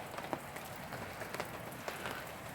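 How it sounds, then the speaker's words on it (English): Steady rain patters on a surface at an August campsite, a soft continuous hiss dotted with occasional louder drips, with no talking. "you can see the rain coming down"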